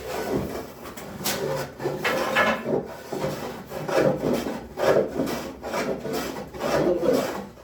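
A freshly sharpened hand tool scrapes repeatedly along a walnut board, taking off saw marks in steady back-and-forth rasping strokes, close and fairly loud with no talk.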